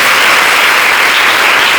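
A congregation at a communal worship gathering claps hands together, a dense, steady wash of applause filling the space from start to finish without any voices on top.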